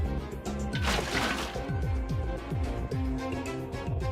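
Water flowing into a waterfall in the video game Minecraft, a steady splashing rush that holds at an even level throughout, with repeating falling game tones running beneath it.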